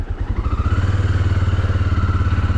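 Motorcycle riding through a pond on a muddy trail ride, a loud close engine chugging in rapid regular pulses with splashing and clattering, no voices.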